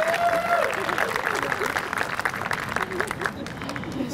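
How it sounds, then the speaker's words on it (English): Wedding guests at a ceremony clap for the groom, Raul, steady applause filling the room while a voice keeps speaking over it and a brief whistle-like tone sounds at the start. "I think we should applaud Raul."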